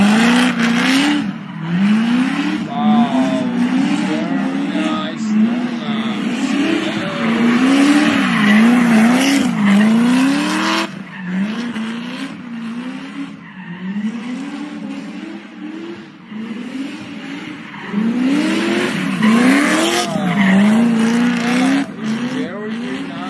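A car doing donuts, its tires squealing in long wavering screeches over a revving engine, loud and sustained with repeated surges of acceleration and brief lulls.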